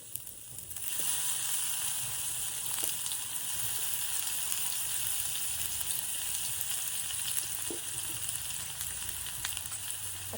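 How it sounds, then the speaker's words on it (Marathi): Chopped onion dropped into hot tempering oil with asafoetida, turmeric and coriander sizzles and fries steadily in a pan, a loud continuous hiss starting abruptly after a moment of quiet, with no talking. "आता कांदा घालते"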